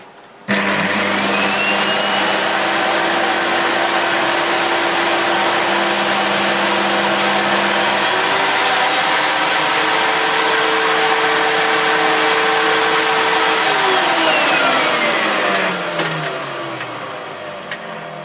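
A Dirt Devil DD6102 vacuum cleaner switches on abruptly and runs with a loud, steady motor whine and airflow roar that holds for about fifteen seconds before winding down, with no talking.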